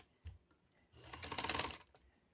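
A sewing machine stitches a lace neckline in a short, quiet, fast burst of rapid mechanical clatter that lasts about a second, after a single soft knock.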